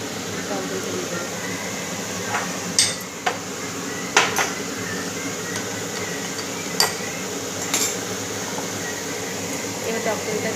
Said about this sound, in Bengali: এটা টক দইটা দিয়ে একটুখানি ভালো করে কষাবো।